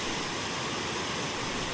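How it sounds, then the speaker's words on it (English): The Old Man River Falls in southern Alberta, churning and foaming at unusually high flow, gives a steady, dense roar of rushing water with no voices. "This is the Old Man River Falls, and in my completely biased opinion, it's the most beautiful waterfall in southern Alberta."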